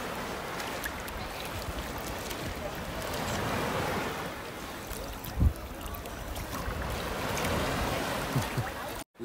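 Ocean water and waves wash steadily around swimmers at a Riu beach resort, a continuous broad surf and splashing wash with a brief louder splash midway and voices faintly mixed in.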